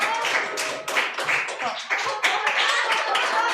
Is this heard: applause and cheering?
yes